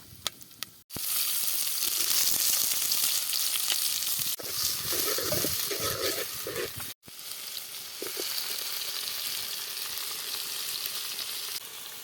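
Tempering for egg rice, including curry leaves, fries in a pan with a continuous, close sizzle and crackle, and bursts of stirring scrape against the pan. No one speaks.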